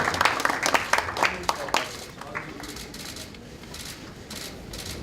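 Applause from an audience at a political party committee launch ceremony, with a few loud individual claps up front, then thinning into softer scattered clapping and room murmur.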